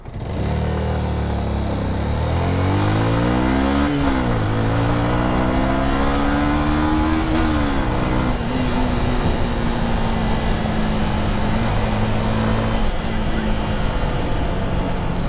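A 2012 motorcycle engine revs continuously and loudly up close, its pitch climbing, dropping back and climbing again before settling into a steady drone; faint voices may sit underneath.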